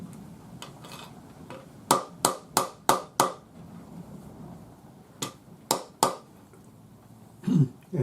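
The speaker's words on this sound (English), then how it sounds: "the wooden block using the rawhide hammer, it's not going to put any marks in it" Rawhide hammer striking a warped metal bangle laid on a wooden block while forging a twisted bangle: a quick run of five sharp knocks, then three more after a pause, close and distinct over faint room noise.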